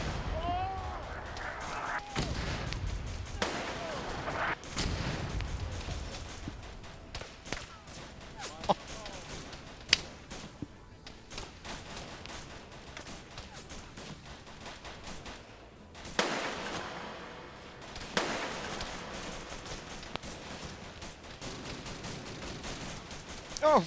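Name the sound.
mortar and gunfire explosions in a Vietnam war video game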